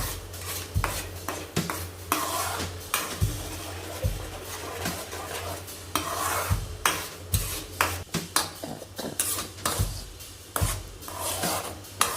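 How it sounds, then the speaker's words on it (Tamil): Sago kesari with food colour being stirred in a pan, heard as repeated scraping and clinking of a utensil against the metal pan in an irregular rhythm, close and fairly loud with no talk. "அதை போட்டு நல்லா கிண்டணும்"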